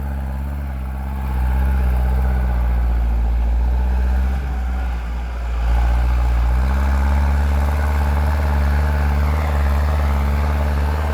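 A Kubota 5018sp tractor engine runs steadily at a low, heavy drone. It stays loud and close with slight shifts in load and no talk.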